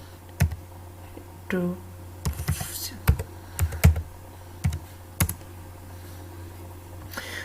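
Keys click on a computer keyboard as a mobile number is typed in, about a dozen sharp, separate taps in an uneven rhythm against a steady low hum, with no talking.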